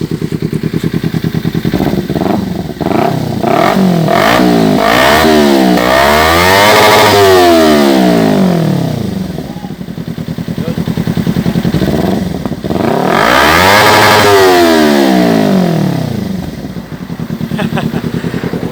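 A Kawasaki Ninja 300 dual-cylinder motorcycle fitted with an M4 muffler is revved hard twice up toward its 13,000 RPM limiter, each loud, close rev rising and falling back to a rough idle, with a voice talking over it.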